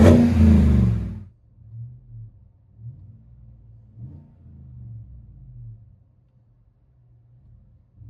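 A 2017 Chevy Tahoe Z71 with a 5.3L V8 and dual Magnaflow exhaust, muffler removed, rumbles low and steady from inside the cabin, with a few swelling pulses of throttle after a loud opening burst.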